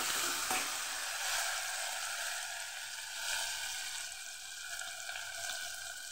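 Tomatoes and green coriander are stirred into rice frying in a pan, potato rice for a school midday meal. A loud, continuous sizzle runs throughout, broken by stirring scrapes.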